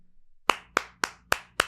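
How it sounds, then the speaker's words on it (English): A room of people clapping at a board meeting, heard as five sharp, evenly spaced claps, loud and close, with no talking. "people in the room clapping"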